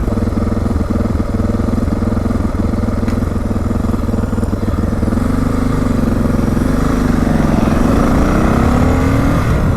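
A Suzuki DR650 motorcycle engine runs close and loud, idling with a slightly choppy, uneven thump, then rises in pitch as the throttle is cracked open near the end.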